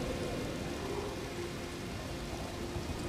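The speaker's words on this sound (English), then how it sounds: "The year-round rain that douses the Weeping Peninsula leave no plants wanting for" Steady, even rain falls across the Weeping Peninsula in Elden Ring, a continuous soft hiss of drops on the ground with no pauses and no voices.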